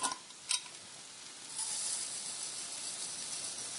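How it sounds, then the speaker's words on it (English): Barley toasting in a pan with browning onions and garlic hisses in a steady close sizzle, opened by a couple of sharp stirring clatters before the frying noise swells and holds. "You'll know when the barley's toasted because you'll be able to smell it."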